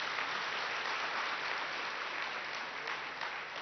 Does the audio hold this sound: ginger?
no